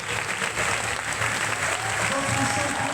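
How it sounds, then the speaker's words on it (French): Steady, loud applause from a crowd at a French sports competition, sustained clapping throughout with a low murmur of voices mixed in. "Et on peut l'applaudir bien fort."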